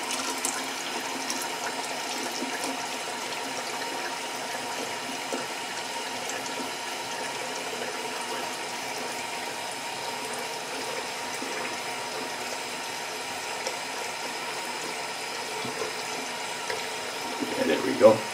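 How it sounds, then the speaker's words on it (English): Tap water runs steadily into a bathroom sink while a razor is rinsed, a faint, even hiss lasting throughout with a small clatter near the end. "Put a little bit of water back in the sink. Rinse the razor."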